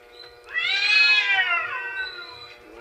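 A single loud, drawn-out meow from a cat on a roof, close and clear, rising then trailing off over a soft background hum.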